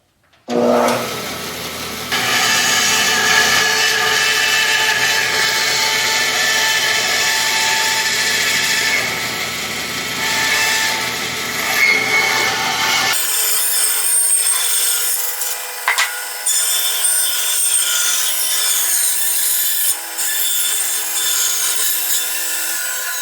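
Bandsaw cutting honey locust wood, a loud continuous rasping whine with a steady motor hum, changing tone partway through as the blade works deeper into the piece.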